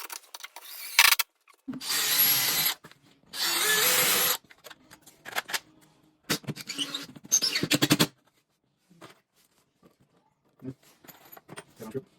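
A power drill drives a 3-inch screw into the wall of a home desk build, whirring in several short bursts separated by pauses, with clicks and handling noise in between.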